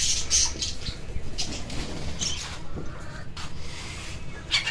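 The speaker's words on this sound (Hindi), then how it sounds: "ये देखें मेरे कबूतर भी सारे आ गए मुझे देख के" Pigeons arrive in a flurry of flapping wings, with several short, close bursts of fluttering over a quiet background and faint bird calls.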